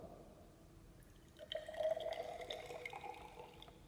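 A liquid solution pours into a container in a chemistry demonstration, starting quietly and then rising into a close, gurgling trickle with a rising filling tone that gradually tapers off, with no speech.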